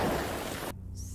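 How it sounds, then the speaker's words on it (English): Rain in an Ultraman Blazar episode pours as a dense, loud hiss that cuts off abruptly partway through. "Oh, with the rain."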